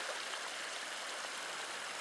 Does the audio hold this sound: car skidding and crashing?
no